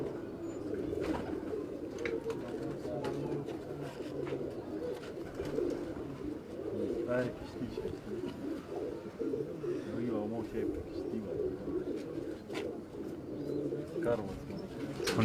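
Sialkoti pigeons on a rooftop in Quetta, Balochistan, giving continuous low throaty coos, dense and overlapping, with a background hum and a few brief clicks.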